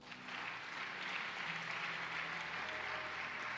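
A church congregation applauds during a worship service, steady dense clapping filling the space for several seconds, even and sustained without a break.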